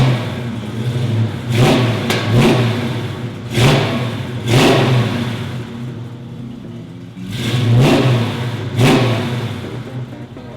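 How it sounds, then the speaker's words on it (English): A 1969 Chevrolet Camaro Pro Touring convertible engine blips through several loud, close revs in an uneven rhythm, dropping back to a rumbling idle between bursts, with no one talking. "How about I start it up for you so you can hear what it sounds like?"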